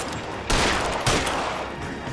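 Two loud bursts of video game gunfire, one at about half a second and another near one second, each with a dense rattling tail, in a firefight in La Noire.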